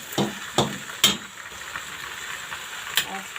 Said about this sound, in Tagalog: Gisa-gisa lang guys.